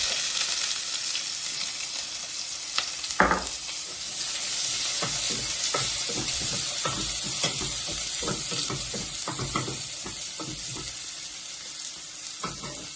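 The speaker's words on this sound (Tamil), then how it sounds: "வெங்காயம் வதங்கி கொண்டு இருக்குது." Onions and cumin sauté in oil in a pan for Tamil mutton rolls: a continuous sizzle with scraping stirs and one sharp knock early on, and no talking.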